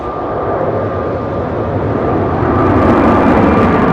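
A British Airways heavy airliner departs Heathrow runway 09R with a loud, close, steady jet roar that grows stronger toward the end of the short stretch.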